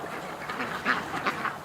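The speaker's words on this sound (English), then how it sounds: "Oh, there's this pretty duck." Ducks quack in short, nasal bursts, several calls spaced across a second or two, moderately near amid outdoor background noise, with no talking.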